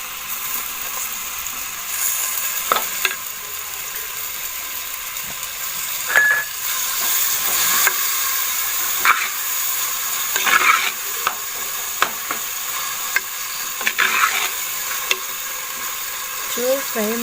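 Brinjal and tomato fry in a pan for brinjal sukka, giving a steady close hiss of sizzling broken by repeated sharp scrapes and knocks of stirring.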